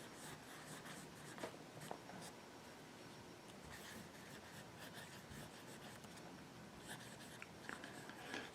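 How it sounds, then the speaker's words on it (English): A Delta Capri Grande fountain pen with a broad Fusion nib writes on thin Tomoe River paper. Faint, close, soft scratchy strokes recur throughout in a quiet room. "And the nib just glides across the paper."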